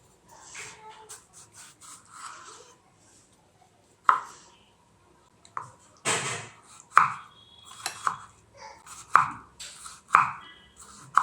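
Knife slicing a tomato on a cutting board while preparing a raw mango salad, giving a series of sharp, separate chops and taps that grow more regular toward the end, fairly close and alone.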